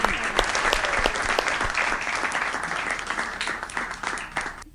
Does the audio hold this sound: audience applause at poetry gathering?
yes